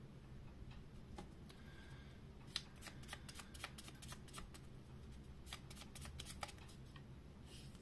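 Oracle cards are shuffled close up, a run of quick papery riffles and soft flicks with a few sharper snaps, fairly quiet against a low background hiss.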